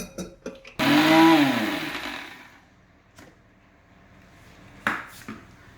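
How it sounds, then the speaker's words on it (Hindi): A blender pureeing cooked raw mango whirs loudly for about a second, its motor pitch rising then settling as it runs down, followed by a few clinks and clatters. "and we will quickly blend it into a puree"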